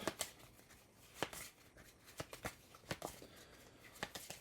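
Cards are shuffled by hand for the Terraforming Mars board game, with a series of quick, crisp riffling bursts and taps at an irregular rhythm, close and fairly quiet, with no talking.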